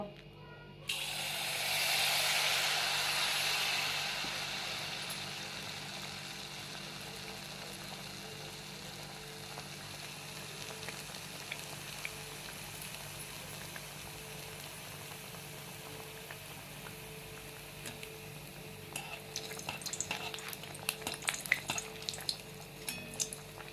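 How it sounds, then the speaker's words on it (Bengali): Batter for pakuan hits hot oil with a loud, broad hiss that settles into a steady bubbling sizzle, then sharper crackles and pops build near the end, close up with no talk. "তেল গরম হয়ে গিয়েছে, এবার আমি ব্যাটারটা দিয়ে দেব।"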